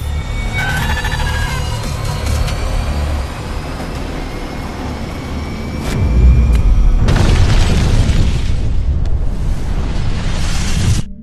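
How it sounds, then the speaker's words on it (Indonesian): A loud, deep boom erupts partway through as a machine explodes from an energy surge, followed by a sustained roaring rumble that fills the space after a steady low mechanical hum. "mesin itu meledak karena tidak kuat menahan lonjakan energi"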